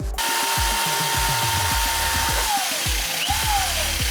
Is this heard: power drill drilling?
yes